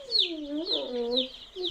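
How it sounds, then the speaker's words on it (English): A crowd of fluffy Freedom Ranger meat chicks cheeps close by, with high, rapid, overlapping peeps running steadily without pause. "That is a lot of fluffy chickens."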